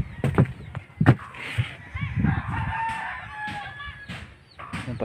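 A rooster crows loudly nearby, drawn out over a couple of seconds, amid scattered clucks from other chickens and some background knocks.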